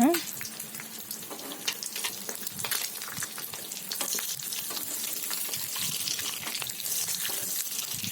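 Eggs frying in hot oil for a fried egg curry, a steady crackling sizzle with spatters and a flip partway through, close and continuous, with no talking.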